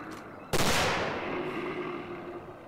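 A single loud, close gunshot fired at a bear in the Antarctic expedition video game Terra Incognito: Antarctica 1911, with a sharp crack and a long echoing decay afterward.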